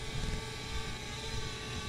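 A DJI Spark drone flies around a neighborhood in Cocalzinho, Goiás. Its small propeller motors give a steady, dense, high buzzing whine throughout, fairly loud and continuous.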